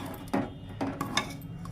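Spoon stirring matar paneer curry in a pot, with a few separate scraping clinks against the metal, close and moderately quiet, no talking.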